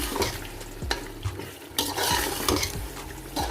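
Chicken is stirred and fried in spiced masala for pulao, with close scraping strokes and clanks of a spoon against the pot over a steady sizzle.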